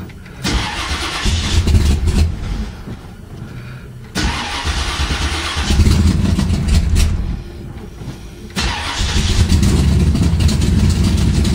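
A wagon engine firing on only half its cylinders runs in loud, rough bursts, cranking and catching three times with ragged, uneven chugging between short drops in level.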